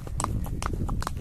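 Hooves of a horse clip-clop at a steady walking rhythm during a ride through countryside in spring, close and distinct over a low rumble.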